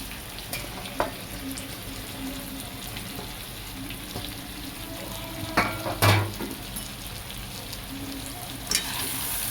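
Potato and mixed vegetables sautéing in a pan for veg rice, a steady close sizzle with occasional spatula knocks and scrapes, one louder clatter midway, and no speech.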